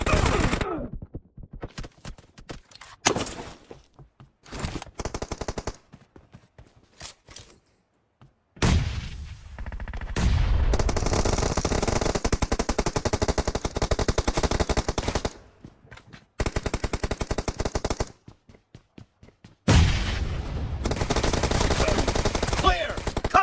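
Suppressed QBZ rifle fire from PUBG Mobile, heard as repeated rapid automatic bursts separated by short pauses, loud and close throughout.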